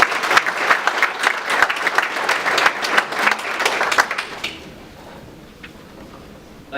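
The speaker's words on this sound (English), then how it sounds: "Please give him a round of applause." Lively clapping from an audience greeting a middle school principal, with many close, crisp hand claps for about four seconds before it stops abruptly, leaving a quiet room with faint stray sounds.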